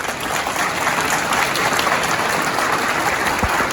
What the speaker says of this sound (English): Thank them for their support with a round of applause.